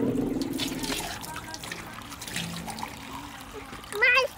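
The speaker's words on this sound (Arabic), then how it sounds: "يلا أسرع أميرة أسرع أسرع مشان يطلع المي" Water pumped from a garden pump into a cup, splashing and trickling in short wet bursts, with a voice and other talk over it and a brief louder splash near the end.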